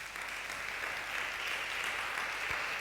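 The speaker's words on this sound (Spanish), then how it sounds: "Dale un aplauso al Rey." A church congregation claps for the King in a continuous, even round of applause from a crowd in a large room, steady and moderately distant.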